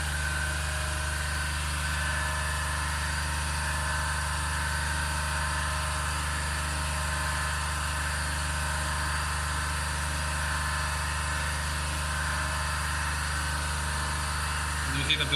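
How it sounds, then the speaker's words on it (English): An induction motor in a lab test rig runs below rated speed in its motoring region, giving off a steady, even electrical hum and drone that holds unchanged throughout. "now the induction motor is under rated speed, is running as a motor"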